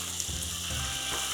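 Gongura leaves dropped into hot oil and frying, a loud continuous close sizzle with faint scraping stirring sounds underneath.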